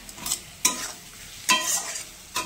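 Tomatoes are stirred in a hot frying pan, with three distinct scraping bursts of a spatula over a soft, steady sizzle, close and fairly quiet.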